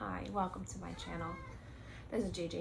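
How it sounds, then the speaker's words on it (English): A pet cat yowls and meows loudly in the background during an indoor home recording, its cries rising between and over a woman's speech. "And you can hear my cat screaming in the background."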